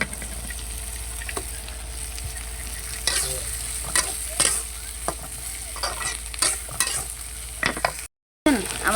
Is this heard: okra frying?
yes